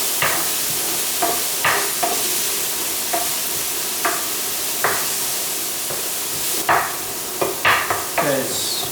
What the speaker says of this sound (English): Get all that garlic and onion flavor come out into the oil here.